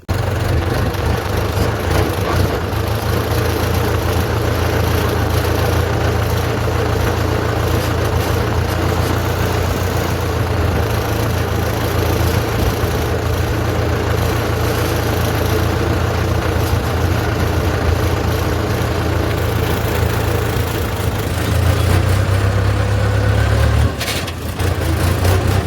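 A tractor engine idles and runs steadily at a close distance, a continuous low rumble that stays loud and unbroken for the whole stretch, with a brief shift in pitch near the end.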